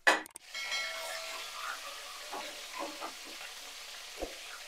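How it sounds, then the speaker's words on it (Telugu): Fish pieces coated in salt, tamarind and turmeric fry in hot oil, hissing and spluttering nearby at a moderate level, with a few louder pops scattered through the steady sizzle and a sharp clatter at the very start. "బాగా సౌండ్ వస్తుంది, మొహం మీద పడతాయేమో, కొంచెం చిటపట్లు ఆడుతున్నాయి కదా"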